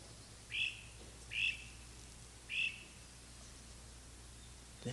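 A bird calls three times in short, bright chirps spaced about a second apart, faint against a quiet, low background hum.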